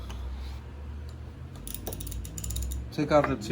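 A wrench loosening the two 13 mm bolts on the bar cover of a STIHL or Husqvarna chainsaw, giving close mechanical clicks and ratcheting ticks, with a louder burst of metallic clatter near the end.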